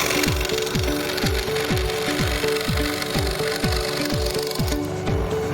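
A scroll saw cuts wood while its blower clears away the sawdust. The blade chatters in a fast, even rhythm over a constant airy hiss, loud and close with no voices.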